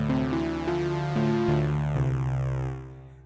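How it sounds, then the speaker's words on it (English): Synthesizer tone from a wavetable mixing single cycles of sine and sawtooth waves, a steady buzzy pitched tone stepping through a few notes at even intervals, sounding alone before fading out. "a cycle of a sine wave and then a cycle of the sawtooth wave."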